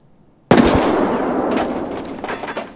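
A frag grenade going off in the game Escape From Tarkov, a sudden loud blast after near silence that rolls into a long crackling, rumbling decay.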